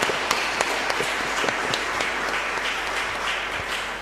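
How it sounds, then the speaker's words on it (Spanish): A church congregation applauding at a Sunday Mass, dense steady clapping with a few sharper claps, moderately loud and continuous throughout. "Fuerte aplauso para el Señor."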